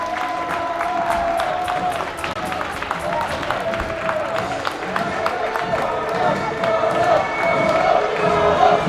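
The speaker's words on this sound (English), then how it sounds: "he's developing a fan club cheering his name down low already" A college hockey crowd at a Calvin versus Davenport game cheers and chants for goalie Carlos Ciso, a steady rising roar with rhythmic claps under an announcer's commentary.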